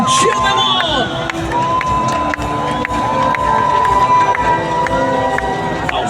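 A large stadium crowd at the 2025 Singapore National Day Parade cheers and shouts continuously, a loud, dense roar with whoops and children's voices rising above it.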